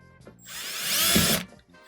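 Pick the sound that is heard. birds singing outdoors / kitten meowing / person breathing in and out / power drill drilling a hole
power drill drilling a hole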